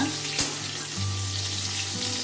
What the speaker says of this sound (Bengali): কুমড়োটা একটু ভাজা ভাজা করে নেব